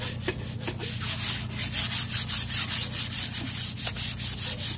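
Dry sandpaper rubbing by hand over a machined piston from a VW 1.9 TDI PD engine, a steady rasping scrape in repeated back-and-forth strokes, close and continuous with no talking.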